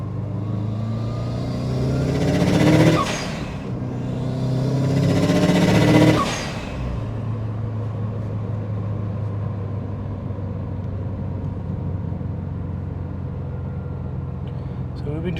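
Restored Subaru GD STi on the road, engine revving up in two strong pulls with rising whoosh, then settling into a steady low cruising drone, heard from inside the car.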